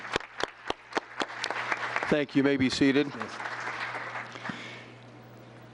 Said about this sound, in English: Let's give our scouts a big round of applause for their help tonight